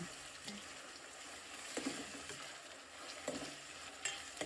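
Chopped tomatoes stirred into pulao in a pan, a faint, low sizzle with soft scraping and a few light clinks of the spoon against the metal.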